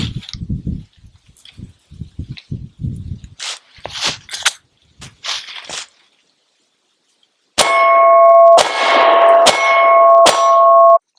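A Sig P365 pistol fires at a shooting range in several sharp, loud reports spaced about a second apart, each followed by ringing metallic clangs, after earlier scattered handling clatter and brief talk.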